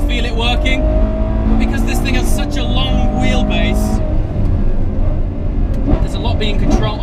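A Ferrari 812 Superfast circles the Fiorano track, its engine loud and close with sharp gear shifts breaking the roar, while someone talks over it throughout.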